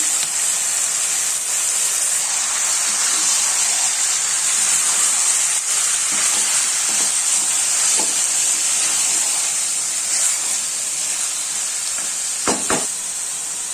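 Kadai chicken with tomato paste fries in a hot pan, giving a loud, continuous sizzle and hiss close by, with occasional soft scraping and clinks as the mixture is stirred.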